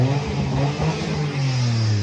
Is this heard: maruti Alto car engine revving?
yes